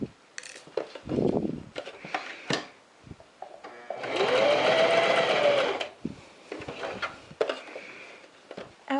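A sewing machine stitches a neckline facing, starting and stopping in short runs, then one steady whirring stretch of a few seconds. Rustling fabric and small handling clicks fill the gaps.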